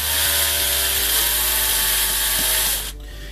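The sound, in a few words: drill slowly drilling into spray can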